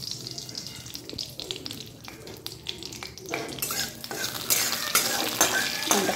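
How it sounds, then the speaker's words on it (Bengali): Mustard seeds hit hot oil in a home kitchen pan for a Bengali mango curry. A soft stirring scrape builds into a louder, crackling sizzle in the last few seconds. "তেল দিয়েছি, এবার একটু সর্ষে দেবো"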